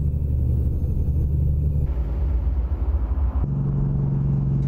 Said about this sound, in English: So if you hear traffic going by, that's the Sound Fixes mod that I'm running.